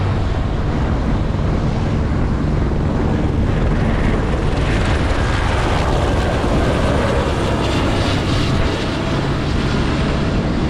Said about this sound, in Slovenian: Evo, še helikopter prihaja.